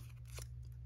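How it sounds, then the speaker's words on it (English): Large scissors snip through vintage envelope paper for a junk journal cover, a single brief quiet cut close by over a steady low hum. "be careful not to stab yourself with these large scissors"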